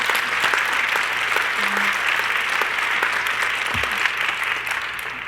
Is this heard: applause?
yes